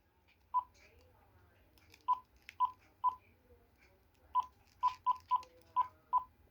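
A GE 28214KE2-A cordless phone beeps out keypad tones as a phone book entry is entered, about ten short, clear single beeps in an uneven sequence, close and distinct, with faint background hum.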